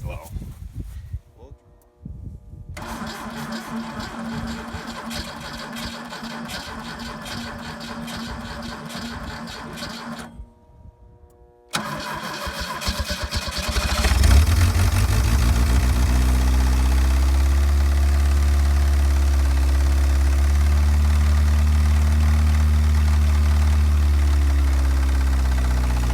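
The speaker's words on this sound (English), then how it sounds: "I honestly think that starter is cranking as hard as it can" A 1984 Pontiac Fiero engine cranks hard on its starter in bursts with brief pauses, then catches and settles into a loud, steady idle close by, no talking over it.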